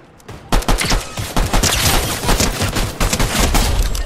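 Rapid close gunfire from the video game Fortnite, a loud dense volley of shots and impacts running continuously after a brief quiet start.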